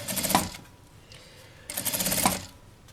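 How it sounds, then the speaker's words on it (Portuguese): A sewing machine stitches the ends of a nylon or fabric bag strap together in two short mechanical bursts, with a quiet pause between them. "aqui então a gente vai juntando as pontinhas da alça e vai fazendo a costurinha"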